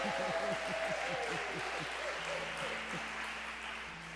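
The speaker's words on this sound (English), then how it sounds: "Let's give Adam a great big round of applause for sound." Audience applause at an evening folk concert, a steady wash of clapping that fills the clip while voices talk and call out over it, fading slightly toward the end.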